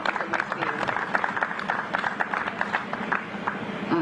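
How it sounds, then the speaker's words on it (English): Crowd applauding at an outdoor Juneteenth flag raising ceremony in Revere, a dense steady patter of many hands clapping for about four seconds with voices mixed in. "let's give a loud round of applause for Nicole"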